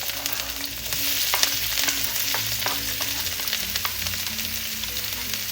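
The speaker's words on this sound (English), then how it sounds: "Let's start by sauteing our veggies here together with the aromatics." Onions, garlic and other aromatics sauteing in a pan for chicken pancit bihon guisado, a steady close crackling sizzle with scattered pops and faint utensil scrapes, no talking.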